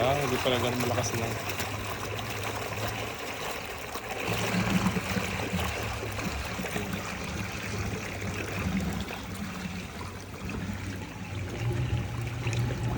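Water runs steadily through a quail manure biogas setup, a continuous pouring, trickling flow heard close and fairly loud with people talking over it throughout.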